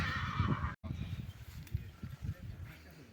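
A Hutsul stallion neighs and whinnies in a farmyard, loud and close, with hoof clops mixed in and voices talking throughout.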